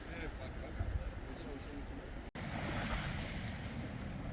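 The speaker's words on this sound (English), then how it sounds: "Can still hear the sea roaring from the other side of the bay." Sea surf roars across the bay at Stewart Island on a windy, overcast day, a continuous broad wash of waves with wind noise on the microphone. It is briefly cut by a dropout midway.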